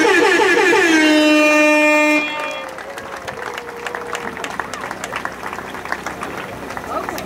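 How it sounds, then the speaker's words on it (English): Crowd at a peaceful street protest in Las Vegas breaks into applause and cheering, following a sustained sung or horn-like tone that cuts off; clapping continues steadily and fairly loud with scattered voices. "Give yourselves a round of applause."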